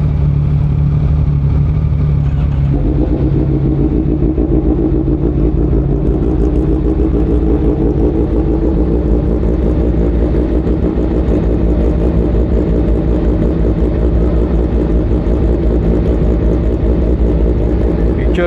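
Big bikes including a Honda CBR1000RR-R Fireblade SP ride out late at night, a steady loud engine drone and rumble that swells and holds for the whole stretch, with no pauses.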